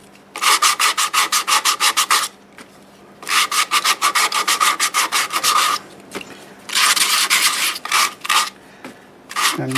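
Myrtle wood spinning on a lathe being sanded with 80 grit sandpaper over a slurry, heard as three loud bursts of fast rhythmic rasping strokes with short quiet gaps between them.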